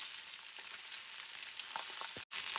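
Bone-in chicken breasts frying in a pan, a continuous soft hiss of sizzling with scattered crackles and pops, heard close and alone with a brief dropout near the end.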